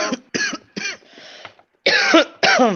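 Harsh, loud coughing fits close to the microphone, several bursts in a row with short pauses between them.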